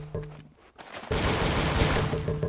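Rapid gunfire bursts from the Roblox game Arsenal: a brief shot early, then after a short lull a loud, dense, sustained stream of automatic fire with no talk.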